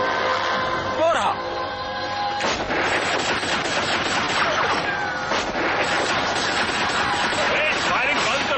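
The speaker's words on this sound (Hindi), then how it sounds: "फायरिंग बंद करो।" Burst of movie gunfire from a Hindi-dubbed action film, dense sustained shots running through the whole stretch at high level, mixed with shouting voices and a brief sharp crash near the start.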